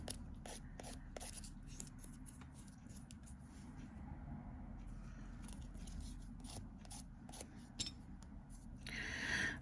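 Small scissors snip press-on nails in a quick series of faint, sharp clicks, close up and quiet, with soft rubbing and handling sounds between cuts.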